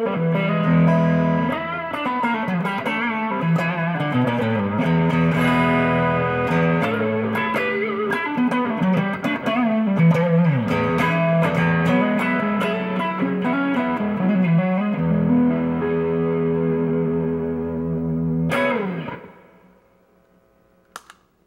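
Electric guitar played through an overdrive pedal with the gain turned up: thick, sustained chords ring loudly and steadily for about nineteen seconds, then stop abruptly and leave only a brief fading tail. No one speaks.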